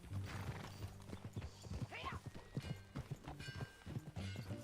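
Horse hooves in Red Dead Redemption II, a clear rhythmic clip-clop of walking hooves with a brief whinny partway through, close and steady, with a ringing musical tone in the background.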